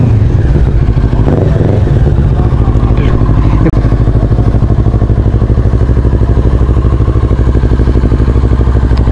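A motorcycle engine idles as it warms up before a ride, a loud, steady, close rumble with rapid even pulsing that holds without revving for the whole stretch.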